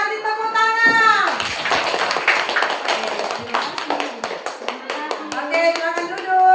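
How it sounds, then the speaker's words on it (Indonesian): Children in a classroom applaud a group, a burst of dense clapping building quickly and then thinning into scattered taps, mixed with excited young voices and some chatter. "Kita kasih tepuk tangan."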